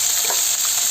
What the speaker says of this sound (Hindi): कनी देर मध्यम में आँच पर प्याज के हम सब भूज लेवे